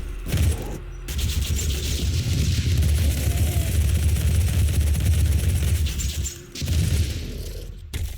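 Sustained automatic gunfire from the 2016 Doom video game, a loud continuous stream of rapid shots with heavy booming bass, briefly pausing near the start and again toward the end.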